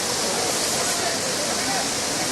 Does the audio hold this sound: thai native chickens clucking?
no